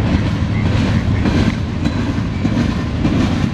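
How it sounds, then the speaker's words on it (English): An ethanol tank-car freight train rolls past at a CSX train meet in Fostoria, Ohio, a steady loud rumble with rhythmic clickety-clack of wheels over rail joints, close and continuous with no talk. "Ooh, we got an ethanol train."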